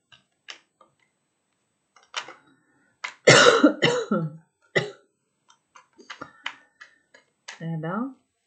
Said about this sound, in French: Faut que je tousse autant